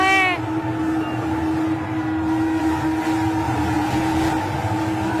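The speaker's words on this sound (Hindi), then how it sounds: "शंखनाद हो रहा है" Conch shells are blown at Narendra Modi's road show in Bihar, holding one long, steady, droning tone over a continuous crowd and street rumble.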